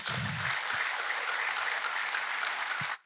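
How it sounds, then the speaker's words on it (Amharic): A church congregation claps for the Lord during a teaching service, a broad, steady wash of many hands that holds evenly and then cuts off abruptly, with a few low thuds and no clear speech. "አጨብጭቡለት ለጌታ"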